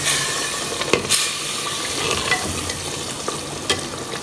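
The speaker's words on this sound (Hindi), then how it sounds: "ये सारे मसाले इसके अंदर डाल के अब मैं खूब भूनूंगी।" Whole spices, including black peppercorns and a black cardamom, roast in a little oil in a pan. A steady sizzle and hiss runs throughout, with occasional scrapes and clicks from stirring, and no one speaks.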